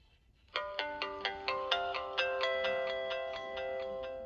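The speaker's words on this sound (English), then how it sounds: "This one uses the same startup sound as my two Verison dumb phones" A Pantech mobile phone plays its startup melody: a clear sequence of about fifteen bright electronic chime notes in a steady rhythm, close and alone, the last tone ringing out.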